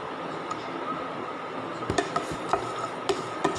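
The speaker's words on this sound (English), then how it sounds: "Just saute the ginger." Ginger sautéing in a pan gives a soft, steady sizzle with several sharp clinks of a utensil striking the pan toward the end; no talking.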